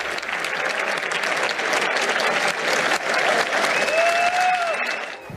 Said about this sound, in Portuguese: O presidente do TSE, ministro Alexandre de Moraes, foi aplaudido de pé ao assumir o lugar dele para comandar a cerimônia